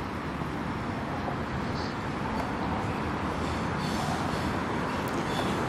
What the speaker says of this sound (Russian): Это там шумит поезд МЦК.